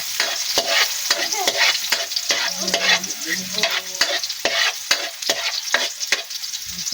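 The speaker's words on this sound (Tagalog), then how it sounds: "ilalagay ko na agad itong ating bawang." Garlic fries in a hot pan with a steady, loud sizzle, broken by repeated sharp scrapes and clicks of a utensil stirring it; no one speaks.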